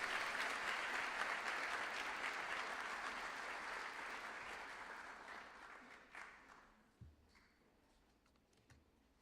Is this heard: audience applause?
yes